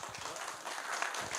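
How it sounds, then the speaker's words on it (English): A conference audience at a software talk on evolving APIs claps in a brief, dense burst of applause, close and fairly loud, with no one speaking over it. "applause for Bobour"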